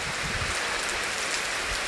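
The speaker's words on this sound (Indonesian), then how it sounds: "hari ini turun hujan lumayan deras ini" Fairly heavy rain falls steadily, a dense, even hiss of drops on surfaces, close and continuous throughout.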